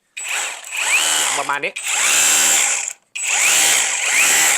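An Osuka cordless rotary hammer drill whirs in three loud bursts separated by short stops, with a brief spoken word between the first two.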